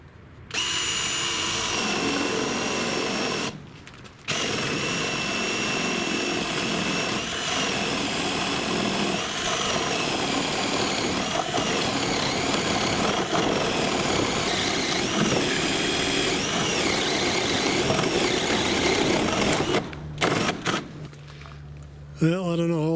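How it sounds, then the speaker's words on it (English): A Milwaukee M12 right angle drill bores steadily with a loud, continuous motor whine under heavy pressure. It pauses briefly near the start, then runs unbroken for a long stretch before stopping. "and we'll start drilling"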